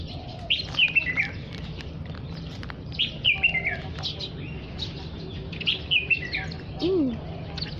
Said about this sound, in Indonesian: Berbagi makanan sama burung-burung.